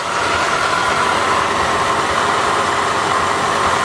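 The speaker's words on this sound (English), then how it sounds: "let's go listen under the hood and see if we hear any timing chain noises." A 1988 Chevrolet Monte Carlo SS engine idling, heard up close under the open hood as a steady, loud broadband hum and whir with no talking.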